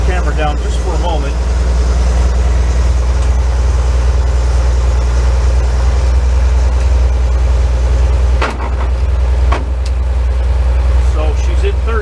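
An engine held at fast idle by a wooden wedge on the throttle runs loud, steady and close, with a deep continuous rumble and a couple of brief clunks near the end.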